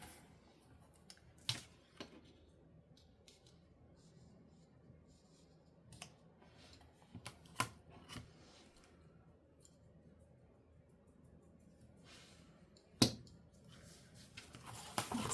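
A few sharp, separate snips as scissors cut through a paper belly band for a double belly band project, heard close and quiet at a desk with long hushed stretches between the cuts.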